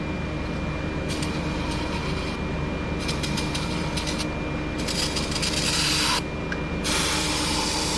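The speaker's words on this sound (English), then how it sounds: "I'm going to spray some brake clean down in these spark plug valleys" Bursts of aerosol brake cleaner hiss in several short and long blasts into the spark plug valleys of a Chevy Sonic engine, close and steady, over a low mechanical rumble.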